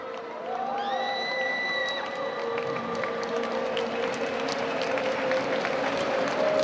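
A home crowd at an athletics stadium applauds and cheers during a 10000m race finish, a steady wash of distant clapping and whoops with a few rising shouts and whistles over it.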